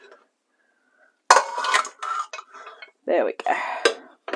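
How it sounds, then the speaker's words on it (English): A big saucepan is taken down and pots and pans clatter with cutlery clinks in a home kitchen, loud busy bursts after a quiet start, with a brief spoken remark among them. "If I get the big saucepan down, they will all fit in there."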